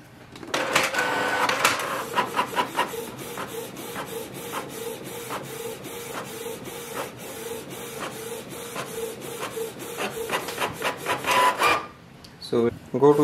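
A Canon TS3700 inkjet printer prints a test page for about twelve seconds, with rhythmic mechanical clicks and the rasp of the print head sweeping back and forth, then falls quiet.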